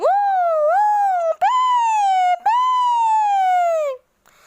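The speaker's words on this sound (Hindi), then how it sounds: "अगले ही पल वातावरण में गूंज उठी कई सायरनों की आवाज" Several loud wailing police sirens sweeping up and down in pitch, cut by short breaks, ending suddenly in silence.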